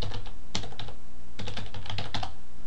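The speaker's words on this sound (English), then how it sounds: "I'd be typing in the URL for Company B here" Fingers type on a computer keyboard in quick bursts of clicky keystrokes, with a short pause midway and no talking.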